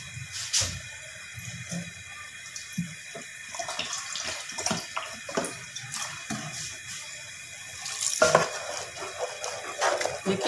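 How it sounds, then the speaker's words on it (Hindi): Water is poured into cooked moong dal in a pot, giving a close splashing, gurgling pour with intermittent clinks of a utensil against the pot, no speech. "हम इसमें हल्का पानी डालेंगे।"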